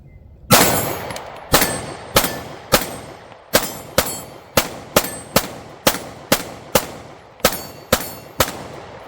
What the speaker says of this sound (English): We're going to start off with just 15 rounds of 9mm FMJ, just some 115 grain stuff.